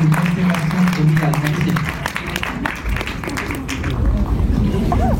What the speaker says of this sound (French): on applaudit une dernière partie de Constellation de Riyad